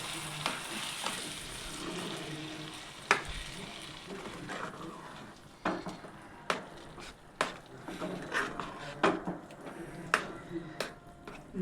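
Carrot halwa stirred in a pan makes a quiet sizzle with repeated sharp scrapes and taps of the spoon against the pan, irregular and close, heard alone.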